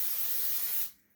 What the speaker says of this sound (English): oil down the griddle